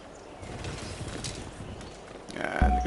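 Horse hooves clip-clopping as a unit moves in Civilization V, a light patter of steps at moderate distance, then a louder thump near the end.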